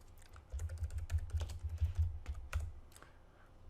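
Faint, quick typing on a computer keyboard, a cluster of soft clicks close by over a low background rumble, trailing off into a few scattered keystrokes.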